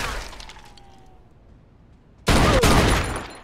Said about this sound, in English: They're shooting from up top!